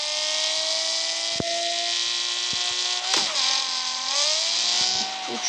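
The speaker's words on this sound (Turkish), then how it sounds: "Şimdi bastım gaza hadi bakalım." Sports car engine in the Car Parking mobile driving game, revving loudly and steadily as the throttle is held open, its tone climbing and wavering with a few sharp clicks, with no voices over it.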